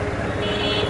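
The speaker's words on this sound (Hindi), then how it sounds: "ये आप देख सकते हैं फेदर टच स्टार्ट जो होता है कितना आसानी से स्टार्ट हो जाती है।" A TVS Apache RTR 160 2V BS6 motorcycle starts on its electric starter, its engine catching into a loud, close, pulsing idle over one short second.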